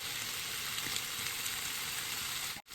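Chicken wings sizzle steadily in a pan for adobo, a dense, even crackle of frying oil that runs unbroken until a brief drop near the end.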